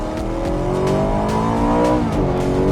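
BMW M3 with a naturally aspirated 4.4 litre V8 revving hard nearby, a loud, continuous harmonic engine roar with pitch rising and dipping briefly, no talk.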